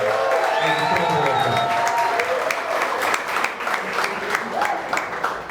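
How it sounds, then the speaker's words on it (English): An audience at a community talk gives a sustained round of applause, dense and loud throughout, with a few voices mixed into the clapping. "first of all, give a round of applause for Willie and Anthony and the sponsors."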